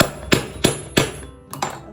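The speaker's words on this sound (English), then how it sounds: "Just take my hammer and hit it." A hammer pounds a fabric-covered belt laid on a wooden plank, giving five loud, crisp knocks in close succession, the first three evenly spaced and the last two nearly back to back.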